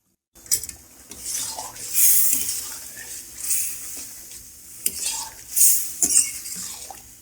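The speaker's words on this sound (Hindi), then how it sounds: "जो ये एक्स्ट्रा पानी है इसको खुश्क होने तक हम इसको भूनेंगे।" Beef karahi with yogurt being stirred and roasted in a pot as its extra liquid cooks off, with repeated metal scraping and clanking of the utensil against the pot over a soft sizzle, loud and close, no talk.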